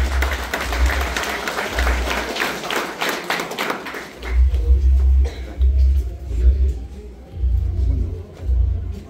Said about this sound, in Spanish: Aplauso para él.